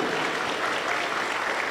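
Steady applause from a church congregation, dense and sustained clapping throughout with no voices rising above it.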